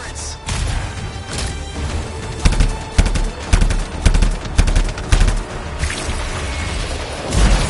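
Turret gunfire in the video game Anthem, loud staccato bursts of rapid shots repeating in an uneven rhythm over a dense, continuous battle din.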